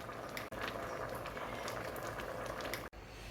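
Jamaican stew peas with spinner dumplings simmering in a pot, a continuous bubbling hiss with small pops, steady and close, no talking.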